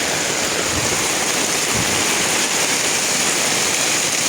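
Heavy rain pours steadily over Metro Manila, a dense, unbroken hiss of downpour close around the listener with no letup and no voices.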